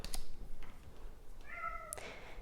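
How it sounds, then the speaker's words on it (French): A domestic cat meows and grumbles close by, with a short drawn-out harmonic meow near the end following a couple of faint earlier vocal sounds. "Il y a mon chat qui râle à côté."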